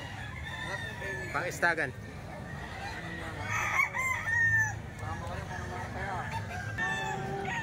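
A Milsim Grey gamecock rooster, a local banded bird, crows several times nearby, its calls rising and falling over background clucking and someone speaking.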